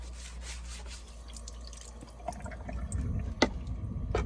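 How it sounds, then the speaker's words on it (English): Water runs and splashes softly from a tap as dishes are rinsed, with faint clinks and a couple of sharper splashes. "Suds everything up, and then I'm going to rinse it off and dry it off."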